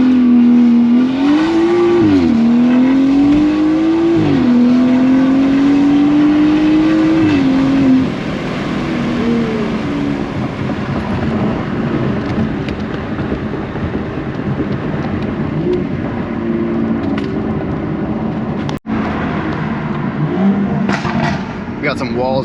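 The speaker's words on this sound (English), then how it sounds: "Let's get a little launch going and see how she does." BMW F30 340i fitted with an M Performance exhaust launches hard, a loud rising engine roar climbing through revs for several seconds then settling into a sustained, raspy drone close by.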